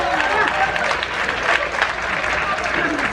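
Comedy show audience aboard the Harmony of the Seas cruise ship breaks into loud, sustained applause and cheering, a dense crowd roar holding steady throughout with scattered whoops.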